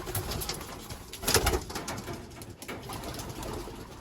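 Pigeons, including young birds, coo steadily in a keeper's loft. The cooing is close and continuous, with a louder swell partway through and no voices.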